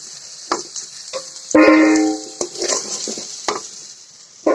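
Potatoes fry in oil with turmeric and salt, a faint steady sizzle broken by clanks of a utensil against the pan and one ringing metallic hit.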